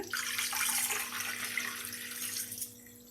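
Water splashes steadily into a container for a few seconds, a continuous close, bright hissing pour with no voices, as water is added to chicken for biryani stock.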